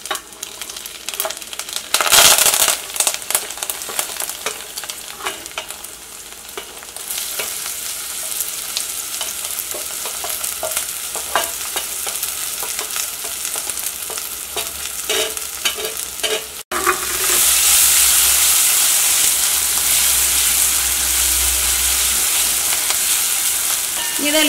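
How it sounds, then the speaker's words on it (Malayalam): Carrot, curry leaves, ginger, onion and green chilli fry together in a pan for a dosa-batter upma, with a steady loud sizzle, stirring scrapes and clatter, and the frying swelling louder in the second half. "ഇനി ഇതിലേക്ക് ക്യാരറ്റ്, കറിവേപ്പില, ഇഞ്ചി, സവോള, പച്ചമുളക് ഇതെല്ലാം കൂടിയിട്ട് ഒരുമിച്ച് തന്നെ ചേർക്കുക."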